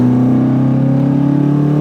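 A Toyota MR2 with its original engine revs steadily while driving in snow, a loud, close, sustained mechanical drone holding a fairly even pitch for about two seconds.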